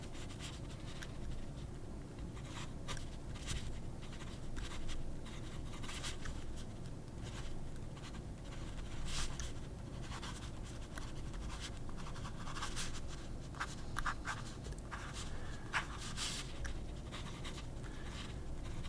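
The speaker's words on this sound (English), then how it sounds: "let's just see how this nib writes, which is the Asvine medium nib" Fountain pen fitted with an Asvine medium nib writing on paper, giving a steady run of close, soft scratchy strokes with brief sharper ticks, continuous and alone over a low room hum.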